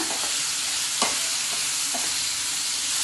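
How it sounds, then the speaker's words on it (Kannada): Tomato, garlic, ginger and chillies fry in a pan for capsicum paneer, giving a close, steady sizzle broken by a few soft stirring scrapes and clicks. "ಇದನ್ನು ಹಾಕೊಂಡ್ಬಿಟ್ಟು ಸ್ವಲ್ಪ ಇದನ್ನು ಫ್ರೈ ಮಾಡ್ಕೊಳ್ಳೋಣ"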